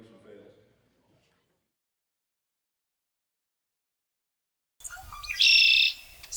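Spring birds in Michigan's Upper Peninsula give a brief, bright burst of chirps near the end, clear and fairly close, after a faint murmur and a long quiet stretch.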